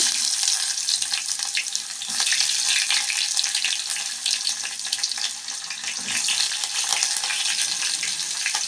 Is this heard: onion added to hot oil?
yes